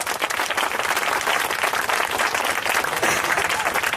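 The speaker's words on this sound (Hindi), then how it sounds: "प्रभु के लिए तालियां देंगे।" A congregation at a church service bursts into lively, dense applause for the Lord, loud and continuous throughout, with voices mixed faintly into the clapping.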